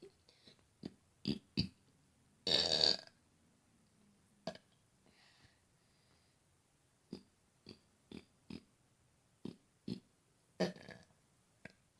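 A person burps in imitation of the Lion King's roar, giving a longer, rough drawn-out burp among a string of short, sharp burps and clicks spread across a quiet background.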